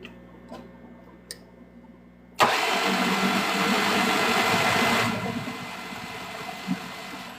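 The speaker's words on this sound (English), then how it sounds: "I have to run a rotary phase to run this big lathe." A rotary phase converter powering a big lathe starts up abruptly after quiet ticking, settling into a loud, steady electrical hum and mechanical drone that softens slightly partway through, close and alone without talk.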